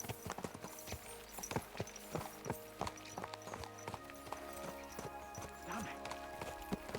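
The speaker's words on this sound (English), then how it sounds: "Let's really spur these horses on, eh?" Horses trotting in the video game Kingdom Come Deliverance 2: a steady, close clip-clop of hooves that runs throughout, under sustained background tones and some voice.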